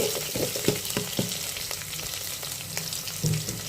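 Onion fries in hot oil in a pan with an even crackling sizzle, broken by several sharp knocks and scrapes of a spoon against the pan.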